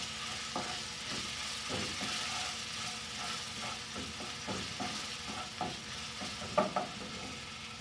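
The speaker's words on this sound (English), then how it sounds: "saute it." Ginger garlic paste sautés in a pan for a chickpea curry. A soft, even sizzle runs under scattered scrapes of a spoon stirring it, with a couple of louder knocks near the end.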